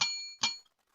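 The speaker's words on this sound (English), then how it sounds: "forgot to tune the bell." An untuned bell struck twice in quick succession, two bright, close metallic rings a little under half a second apart, the second ring fading out into silence.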